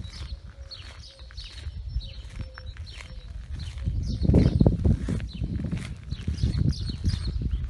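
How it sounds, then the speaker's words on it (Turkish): Small birds chirping and calling near an Erikli beach lot outdoors, scattered bright tweets over a low outdoor rumble that grows louder in the second half; no talking. "Hayranım bu kuş seslerine."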